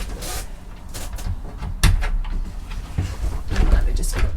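Cupboard doors in a Swift Kon-Tiki 794 motorhome are unlatched and closed, producing a series of close, sharp knocks and latch clicks with one louder bang in the middle, mixed with someone talking.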